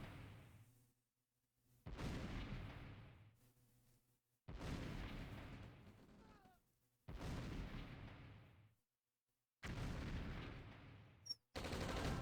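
Artillery fire in the strategy game OpenRA Red Alert: four booming blasts, each with a long rumbling decay, separated by gaps of near silence, at a fairly low level.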